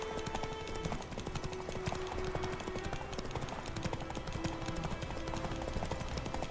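Galloping hooves of Roach the horse in The Witcher 3 video game, a fast continuous clip-clop beneath game music and ambience, fairly quiet and steady.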